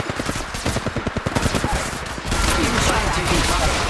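Rapid bursts of automatic gunfire from the battle royale shooter Apex Legends crack in a fast, loud rhythmic stream, followed by a denser, noisier wash of shots and impacts.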